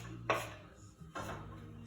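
Chopped onions dropped into hot oil in a pan: two soft clattering impacts with brief bursts of sizzle, set against a low kitchen hum.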